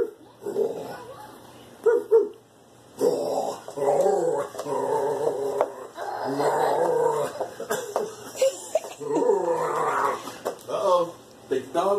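A dog growls and whimpers while tugging at a teddy bear during play, rumbling growls and yips near the microphone under a woman's excited, laughing chatter.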